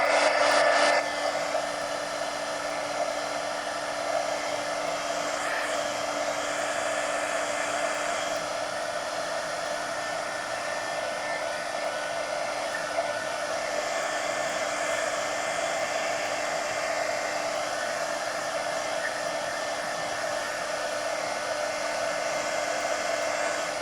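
A heat tool drying paint on an art journal page blows a continuous steady whirring hiss, close and unchanging for the whole stretch with no talking.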